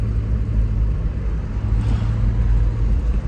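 A car drives home after a day of mountain biking, giving a steady, close low engine and road rumble throughout, with no voices.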